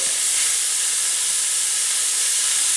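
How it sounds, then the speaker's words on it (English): Ground meat sizzling and hissing in a large pot, a loud, steady, unbroken frying hiss close up with no talk. "into a large pot, we are going to be adding our ground meat. And we're going to give it a rough break up"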